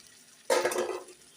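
A short splash of cooking water poured into a pot of chicken-feet soup, about half a second long, close and fairly loud, followed by a faint clink.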